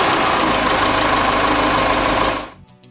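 A car engine starts after its fuel system is bled and runs with a fast, loud mechanical chatter for a couple of seconds, then winds down and stops.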